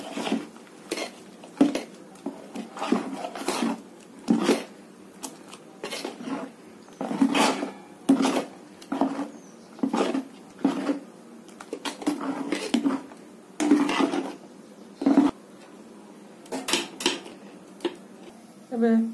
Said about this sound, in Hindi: सब को मिसे नबा।